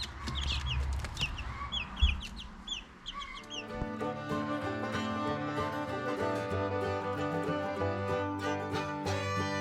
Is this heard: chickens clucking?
yes